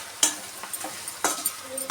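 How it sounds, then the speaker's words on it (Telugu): Chicken fried rice with ground pepper and garam masala being stirred in a pan, close scraping strokes at irregular intervals over a light frying sizzle, no voices. "బాగా కలపాలి."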